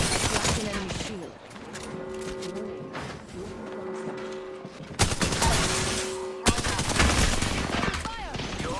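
Rapid bursts of automatic gunfire from the video game Apex Legends crackle repeatedly, with sharp shots and short pauses, loud and close over layered game effects and tonal hums.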